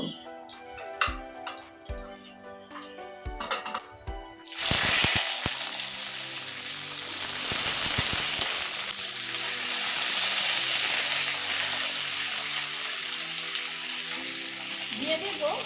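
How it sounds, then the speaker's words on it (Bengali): Flat beans fried in oil with black cumin in a home kitchen: a few light taps and clicks, then a loud, dense sizzle bursts in and holds steady and close to the end. "কালো জিরে ভাজা হয়ে গেছে এবার সিমগুলো দিয়ে দেব ভাজার জন্য"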